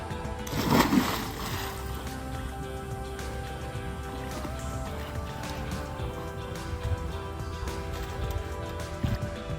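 A person falls into water with a sudden splash near the start, then quieter sloshing and rippling water continues softly to the end.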